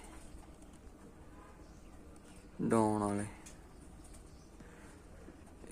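Pigeons kept for the 2026 season, set out in the sun, give one short, fairly loud coo midway through, with quiet talk and background noise around it.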